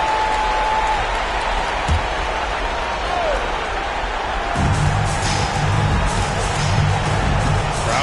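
Home crowd in NBA 2K26 basketball game noise at a Seattle home game, a steady arena roar that swells louder partway through, with broadband crowd murmur and cheering throughout.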